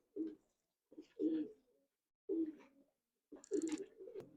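Racing pigeons coo in four separate bursts of soft, throaty calls, close by and clear, with short pauses of quiet between them.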